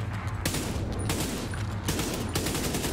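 Heavy rapid gunfire from enemies in the co-op shooter The Division 2, sustained bursts cracking continuously with sharper loud volleys punctuating the steady barrage, no talking.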